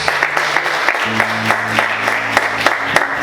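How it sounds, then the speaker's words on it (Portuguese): A church congregation applauds together during a sermon, steady dense clapping with a sustained tone from instruments or voices beneath, filling the room at moderate loudness. "Você pode aplaudir Jesus?"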